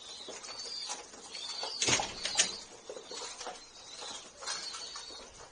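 Racing pigeons move about in a covered loft in Buca, İzmir, with soft scattered rustles, a couple of sharp wing flaps or knocks near the middle, and faint cooing against a quiet background.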